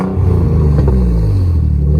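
1990 Nissan 300ZX Z32 engine with new fuel injectors running steadily after starting, a loud continuous low rumble with a brief rev near the middle, close by, no talk.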